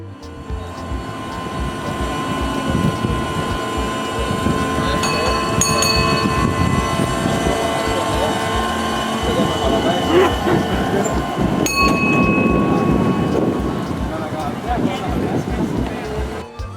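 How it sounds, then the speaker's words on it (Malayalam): A small amusement park toy train at Tivoli Gardens, Copenhagen, rumbles along steadily, with metallic rattling and a couple of brief squealing tones; people talk over the running noise. "ഒരു കളിവണ്ടി കൂകിപ്പാഞ്ഞു വന്നു"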